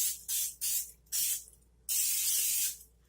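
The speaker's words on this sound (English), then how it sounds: "spray these around just so they don't stick" Baked cake donuts get a light coat from a spray can, four short hissing bursts, the last one longer, close and alone.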